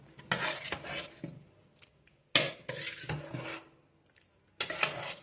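Dal, chillies and moringa are stirred into paratha dough in a metal bowl, giving three bursts of scraping and clinking utensil sounds separated by quiet pauses.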